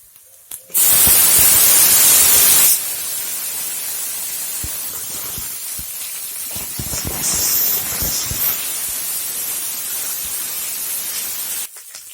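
Onion stalks drop into hot oil with already fried onion and green chili, setting off a loud burst of hissing sizzle that settles into a steady, dense frying hiss, close by and without speech.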